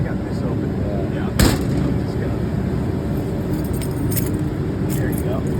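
Keys jangle near a paint booth, with a metallic rattle and one sharp clink partway through, then scattered lighter jingles. Background rumble and movement noise run beneath it.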